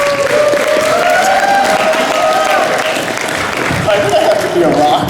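Crowd applause and light cheering for improv comedy performers at a convention, a loud continuous wash of clapping with a speaking voice running over it.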